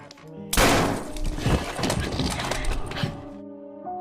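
A sudden loud burst of gunfire in a tense film scene, with sharp cracks and rumbling echoes over about three seconds before cutting back to a quiet tonal background; no speech.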